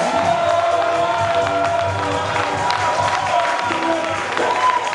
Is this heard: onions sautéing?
no